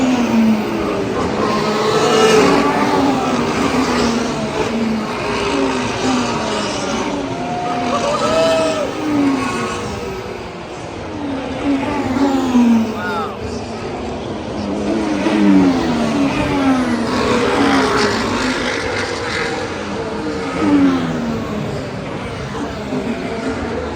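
Formula One race cars roar at the Las Vegas Grand Prix, with loud, sustained engine noise and rising and falling whines as cars sweep past, continuous and close throughout.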